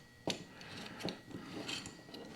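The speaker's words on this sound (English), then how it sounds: "Take the bolts out." Bolts are removed from an Archetype Racing TAP BYOD device mount in a 2021 Ford Bronco, giving a few faint, close metallic clicks and ratcheting rubs over a quiet background.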